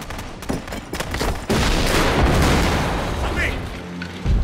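Film battle scene with a grenade explosion and gunfire: sharp shots and bursts up front, then a loud heavy boom that rumbles on and fades, with a voice calling out early on.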